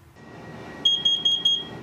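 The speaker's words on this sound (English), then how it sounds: "These four beeps mean it's time to get outside immediately." Carbon monoxide detector alarm sounding its temporal pattern: four sharp, shrill electronic beeps in quick, even succession, loud and close over a quiet indoor background.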